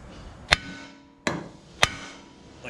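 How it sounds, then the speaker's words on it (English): A hammer strikes the 19mm nut left on a tie rod bolt of a 2004 VW Jetta to break the taper, three sharp metallic blows spaced under a second apart, close and alone. "So the nut helps protect it in case you miss and hit it. You don't hit the threads, you just hit the nut."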